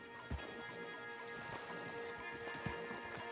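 Horses in the Red Dead Redemption 2 video game clip-clop steadily at a walk, with sharp hoof knocks standing out over a busy ambient game soundtrack; no speech.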